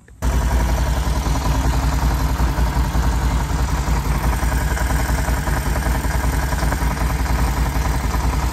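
A Can-Am Renegade XMR 1000 ATV engine kicks in abruptly and runs loud and close, a steady, rough mid-pitched rumble with a faint clattering texture and no voices.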